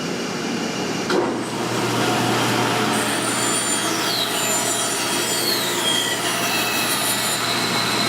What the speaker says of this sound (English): now you'll see me just freehand take that board and cut a curve